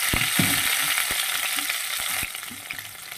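Chopped green chillies and onion frying in a pan with cumin seeds, a steady close sizzle punctuated by intermittent spatula scrapes and taps, easing slightly toward the end.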